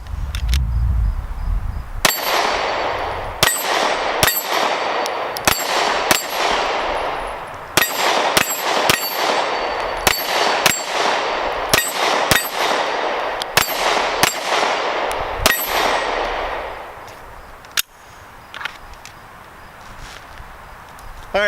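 Smith & Wesson M&P 2.0 compact pistol firing 115 grain rounds outdoors: a rapid string of loud, sharp shots at irregular, mostly quick intervals, with some metallic clinks between them.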